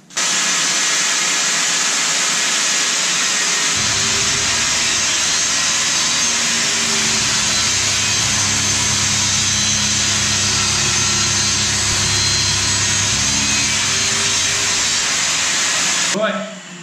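Power saw ripping a pine board lengthwise, a loud, sustained high whine that deepens into a rougher cutting growl through the wood, then winds down when the cut is finished.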